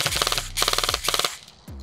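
Specna Arms airsoft AEG electric gun firing several rapid mechanical bursts of clicking shots at close range, each burst a quick rattling string, followed by a short pause.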